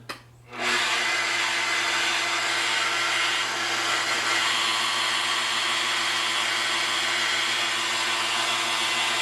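A magnetic drill starts and plunges into metal, its motor spinning up quickly into a loud, steady whine with a constant low hum, continuous and close for the whole stretch.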